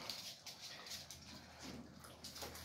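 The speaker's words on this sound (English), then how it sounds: "Drinking water." Rottweiler puppies lapping water from a bowl, a steady wet slurping and splashing close by, continuous and busy with no talk.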